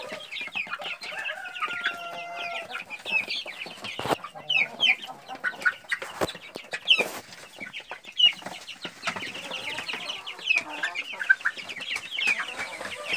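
Chicks and chickens in a brooder pen give busy, overlapping peeps and clucks at a moderate level, with a few sharp knocks mixed in.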